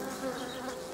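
Honey bees at an open hive frame, during colony splitting and natural varroa mite treatment, make a dense, steady buzzing drone. The sound is close and continuous and carries no speech.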